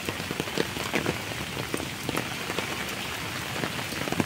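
Steady rain falls on a hiking trail near Tai Tam Reservoir in Hong Kong, a dense continuous patter of drops close by with no talk.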